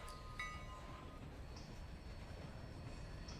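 A phone ringtone imitating a train plays faintly, with a steady rumble and rail-like squeal tones held throughout and no talking.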